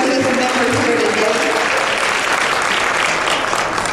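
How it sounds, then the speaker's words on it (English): Sustained audience applause at a keynote event, dense and steady clapping from a large crowd throughout, loud and close with no pauses. "so we can give you a big round of applause"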